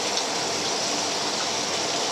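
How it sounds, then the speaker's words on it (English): Beaten egg goes into a hot wok with meat for Singapore noodles, and a dense, even sizzle rushes continuously at close range with no voices over it. "And then we put egg."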